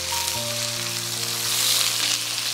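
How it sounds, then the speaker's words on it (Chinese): Fish fries in hot oil in a wok, giving a loud, steady sizzle close to the pan that swells slightly midway, with a faint tonal hum underneath. "这一面也给它煎上色啊。"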